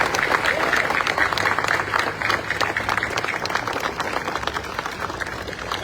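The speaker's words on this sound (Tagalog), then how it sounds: "Pwede ba palakpakan natin ang pinakamalakas kong palakpak?" A crowd at a Manila flag raising ceremony applauds loudly and continuously, dense clapping holding strong for several seconds before easing slightly, with some voices mixed in.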